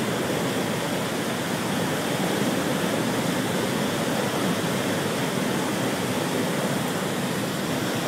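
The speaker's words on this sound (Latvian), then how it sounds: "Notiek slūžu pildīšana tagad." Water rushing into a lock chamber on the Göta Canal, a loud, steady, broadband roar like a waterfall that continues unbroken throughout with no voices.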